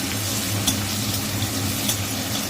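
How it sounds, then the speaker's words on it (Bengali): Garlic lightly frying in a pan over high flame for a Chinese-style dish, giving a steady continuous sizzle with faint crackles, close and moderately loud, with no talking. "দেখো রসুনটা একটু হালকা করে ভেজে নেব"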